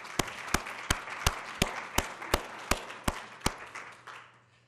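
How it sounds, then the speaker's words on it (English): Evenly spaced sharp claps, about ten in a steady rhythm, ring out crisply and close at a college town hall event before fading into a quiet tail. "So please join me in giving them a round of applause"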